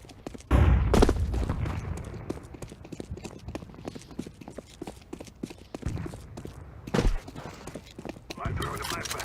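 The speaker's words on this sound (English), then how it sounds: "I'm throwing the flashbang." Video game combat: a flashbang grenade bursts, followed by scattered gunshots and another sharp blast, with a voice talking over the sharp impulsive bangs at close range.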